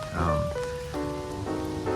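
Steady rain pattering on a tent or tarp at a solo campsite, a continuous close hiss with a few brighter tonal sounds over it and no talking.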